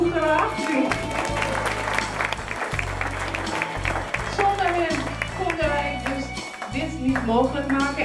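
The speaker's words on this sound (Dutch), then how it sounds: "Een groot applaus voor onze kookcrew graag." Guests at a 40th anniversary party in Amstelveen applaud the cooking crew, a lively mix of clapping and chatter with voices talking and calling out over it and some background music.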